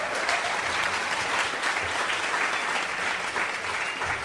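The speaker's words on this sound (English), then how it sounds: "Let's give them a big," Sustained applause fills a Chamber of Commerce business event, a dense, even clapping from a large audience that continues steadily throughout without pause.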